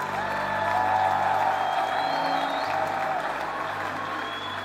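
A church congregation applauds in praise of the Lord, a sustained, dense round of clapping with scattered voices and a few whoops, steady and full before easing slightly toward the end.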